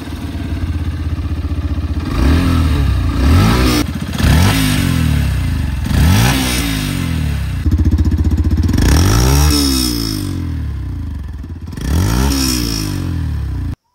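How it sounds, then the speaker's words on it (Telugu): A 2025 Yamaha FZ-S V4 motorcycle engine revs up loudly several times in close succession, the exhaust note rising and falling with each throttle blip, alone without voices. "ఎగ్జాస్ట్ నోట్ యొక్క క్లారిటీ మీరు వినే ఉంటారు"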